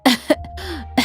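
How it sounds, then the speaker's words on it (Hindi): An ill elderly woman lying on an old cot coughs in short, harsh bursts, three or four close coughs with a faint throat sound between them, near and alone. "अम्मा खांसते हुए कहती है"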